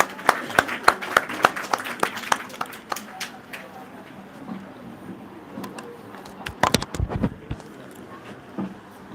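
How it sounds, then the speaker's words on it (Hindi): An audience at a speaking event claps to welcome a guest speaker, scattered sharp claps at first that thin out, then a second brief flurry of clapping near the end. "प्लीज वेलकम मिस्टर अफसर राही सर, तालियों से स्वागत करिएगा इनका"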